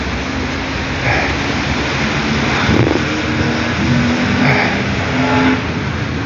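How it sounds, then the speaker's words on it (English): Road traffic near a train station in Russia, with a rural bus passing: a steady, loud broadband roar of engines and tires, swelling gently a few times as vehicles go by. "see the amount of traffic, and again another bus, another rural bus, absolutely everywhere"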